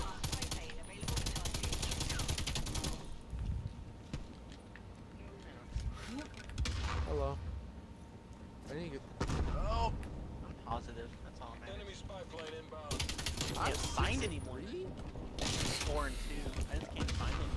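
Gunfire in Call of Duty cracks out in rapid automatic bursts, loud and close, with mechanical reloading clicks between them and someone talking over the action.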